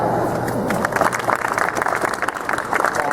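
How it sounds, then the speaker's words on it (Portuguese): Audience at a youth lecture breaks into applause after a moment of murmuring, a dense crackle of clapping hands that swells and holds steady, close and fairly loud. "Pessoal, palmas para a Dayara."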